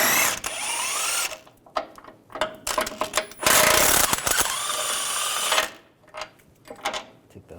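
Power tool with a 24mm socket removing bolts from the 4WD actuator on a 2014-2018 GMC Sierra 1500 5.3L V8, heard as repeated close, loud whirring bursts with short pauses between them.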